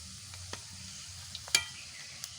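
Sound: gaja sweet frying in hot oil, sizzling

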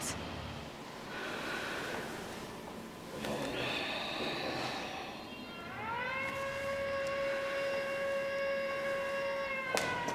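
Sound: air raid warning siren

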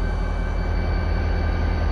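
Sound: train passing

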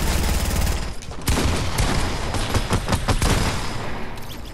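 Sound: shotgun firing in the video game Fortnite

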